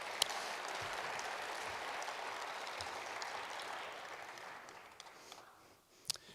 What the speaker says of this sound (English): Please, another round of applause for S&R Foundation